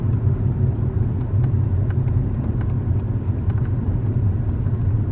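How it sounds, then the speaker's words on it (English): A car draws near on a narrow country road in Yorkshire, a steady low engine rumble and tyre noise holding throughout, fairly close and with no talk over it. "there's a car coming"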